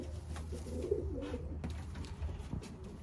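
Soft low pigeon cooing repeats close by over a steady background hum, with faint rustling and no talking.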